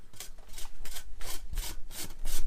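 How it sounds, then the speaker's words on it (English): Ingredients for tzatziki being grated by hand, heard as about seven regular, close rasping strokes in a steady back-and-forth rhythm. "And then we're going to grate it."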